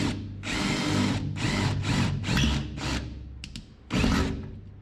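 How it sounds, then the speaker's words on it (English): An electric drill bores holes in sheet metal during bodywork on a 1961 station wagon. It gives several close, whining bursts of drilling separated by short pauses, with a few light clicks between them. "I just realized I never actually drilled out the holes for these ones"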